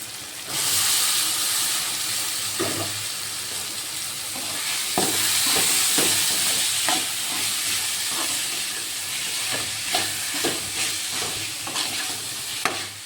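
Cluster beans and tomatoes sizzle and fry in a hot pan, a steady loud hiss with scattered clicks and scrapes of stirring throughout.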